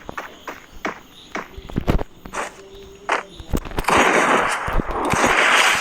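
Video game gunfire, including a double M2 loadout, sounds as a series of sharp, irregular cracks and thuds, with a burst of denser noise near the end.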